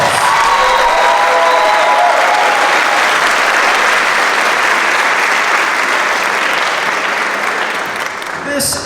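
Sustained, loud applause from a concert audience for middle school honor bands, a dense wash of clapping with faint cheering that holds steady for several seconds before easing at the end.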